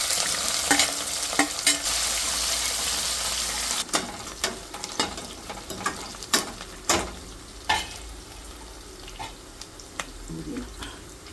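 Sliced onions with chopped green chilies and whole spices frying for a coconut milk pulav, with a constant sizzle under repeated sharp scrapes and clacks of a spoon stirring in the pan, close and busy.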